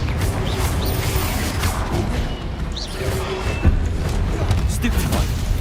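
A Confringo blasting spell goes off in Hogwarts Legacy. Booming, crashing spell effects and whooshes play over a steady bed of game noise, with one sharp impact near the middle.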